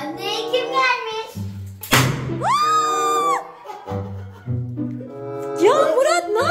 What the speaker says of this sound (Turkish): Ay Elif, nasıl korktum o patlama sesinden ya.